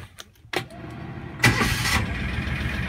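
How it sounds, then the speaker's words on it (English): An Argo Conquest 8x8 amphibious vehicle's engine cranks after a couple of faint clicks, then catches and settles into a steady, loud idle close by. "Let's start her up and go for a little drive."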